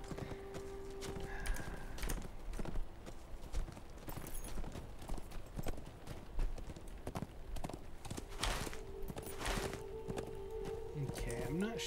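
Horse hooves clip-clop steadily as a mount is ridden in Lord of the Rings Online, with a brief whinny near the end and someone talking over the hoofbeats.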